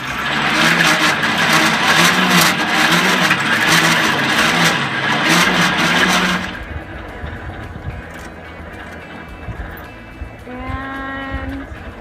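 An electric field winch winds in its cable with a loud, steady mechanical whine and droning motor that stops abruptly, leaving quieter outdoor background and a brief tonal hum near the end.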